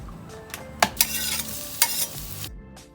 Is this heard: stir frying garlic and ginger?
yes